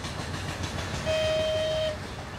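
Train on the Gazprom railway crossing the Siberian tundra, a steady rolling rumble with a single sustained whistle blast sounding midway, fairly loud and alone.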